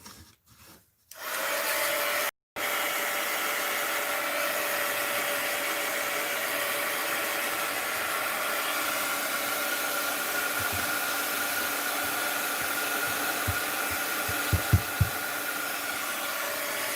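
A hair dryer runs in a loud, steady whoosh after a couple of brief cutoffs at the start, blowing close over a mixed media art journal page, with a few faint soft knocks near the end.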